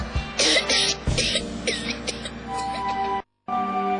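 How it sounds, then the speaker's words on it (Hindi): Several harsh coughs and throat-clearing bursts come from a Hindi TV advertisement for Lifebuoy soap about coughs and fever. They are loud and close over the opening seconds, followed by a brief dead silence and then a tonal jingle. "अरे खांसी बुखार फिर से?"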